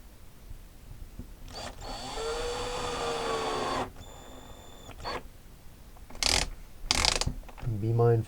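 A cordless drill driver on a low torque setting driving small screws into white oak: a whirring motor burst, then a clicking clutch ratchet, followed by short sharp buzzes, close and clear.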